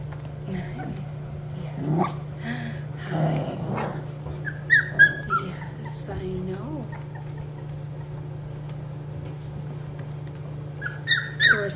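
Young puppies and dogs in a litter area, with soft whimpers, a few short barks and scattered squeaks over a steady low hum; chicken-like clucks may also be in the mix, all at moderate distance.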